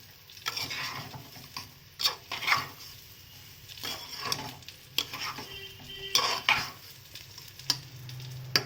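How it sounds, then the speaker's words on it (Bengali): Rice frying in a pan for bhuna khichuri is stirred with a spatula, soft sizzling under repeated scraping and clinking strokes that come in uneven bursts over several seconds. "চাল দিয়ে ভালো করে ভেজে নিচ্ছি"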